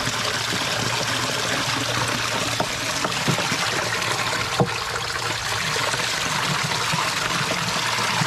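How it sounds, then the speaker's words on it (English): Drain water from a DIY French drain pours steadily into a catch basin that feeds a pump, a continuous, close rushing trickle with no voices over it. "You see it pouring into the catch basin, fills up the basin, comes into our pump."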